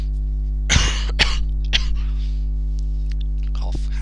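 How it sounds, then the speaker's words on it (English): A person coughs sharply three times, with throat clearing among the coughs and a softer cough near the end, all close by over a steady low electrical hum. "Cough, hack, cough."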